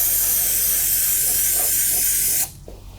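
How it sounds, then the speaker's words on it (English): Carb cleaner sprayed into a cylinder of an LS3 engine block, a loud steady aerosol hiss lasting about two and a half seconds that stops abruptly, leaving faint handling noise. "Just some carb cleaner in here just to get out all of"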